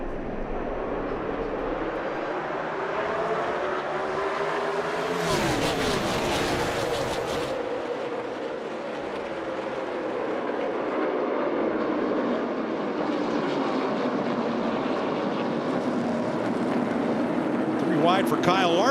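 NASCAR Cup Series race cars on the Daytona road course roar past together as the field accelerates toward the restart zone, a loud sustained engine drone under steady commentary, with a sharp surge midway as cars sweep by.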